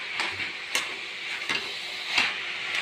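Spices sizzling in a pan for a Bengali cabbage dish, a steady frying hiss with a few soft clicks of stirring, close and moderate in level.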